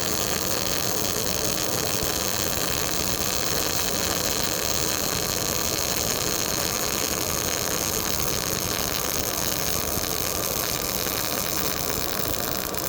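MIG welding a fillet weld on steel gives a steady, dense crackling hiss that runs without a break at an even level, close and loud, with no voices.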